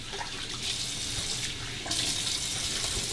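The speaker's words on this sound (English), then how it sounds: "Splash a little more hot water on." Hot water runs from a bathroom tap into a sink during a wet shave, a close, steady rush and splash that swells briefly partway through, with no voices.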